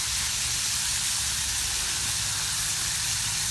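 Bacon sizzling in a cast iron pan, a steady, close, dense hiss that stays constant throughout with no talk.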